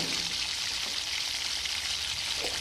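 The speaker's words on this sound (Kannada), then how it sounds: "ಇದೆರಡು ಸ್ವಲ್ಪ ಗೋಲ್ಡನ್ ಬ್ರೌನ್ ಆದ ತಕ್ಷಣವೇ ಈಗ ಕರಿಬೇವನ್ನು ಸೇರಿಸ್ತಾ ಇದ್ದಾರೆ ಈಗ ಎಲ್ಲವನ್ನು ಒಟ್ಟಾರೆ ಫ್ರೈ ಮಾಡ್ತಾರೆ" Curry leaves frying in a hot pan with browned ingredients, a continuous soft crackling sizzle, steady and close, with no talk.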